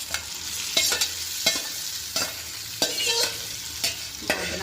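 Mung beans hiss in a hot pan as a spoon stirs them in regular strokes, each stroke a sharp scrape rising over a soft sizzle, repeated about once a second with no talking.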